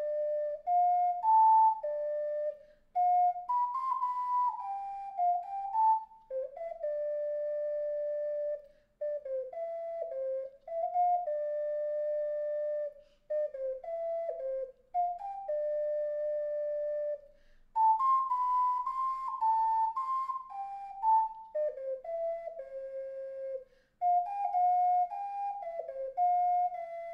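Ocarina playing the full Temple of Time melody, a sequence of sustained, pure-toned notes in stately phrases, heard close and unaccompanied, with no voices.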